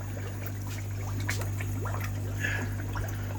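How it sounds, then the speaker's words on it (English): Water runs from a garden hose left on full into a fish tank, a steady close trickling pour over a constant low electrical hum. "left the hose on full. So it's filled up quicker than what I expected."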